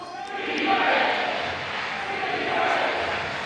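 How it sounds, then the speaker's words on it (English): A basketball crowd at a 413 Elite vs Mass Wolves game sends up a loud, steady roar of massed voices chanting defense, swelling slightly at the start and again near the end. "You can hear the defense chants coming from a crowd down and below."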